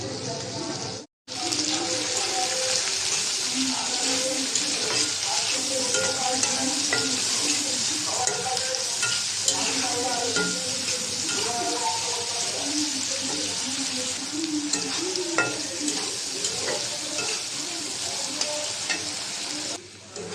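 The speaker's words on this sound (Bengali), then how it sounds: "চিংড়ি মাছটা আগে ভেজে নিব একটু হলুদের গুঁড়া দিয়ে দিলাম" Shrimp fries in hot oil in a pan with turmeric powder, giving a loud, steady sizzle close by with scraping stirring sounds throughout and a brief cut near the start.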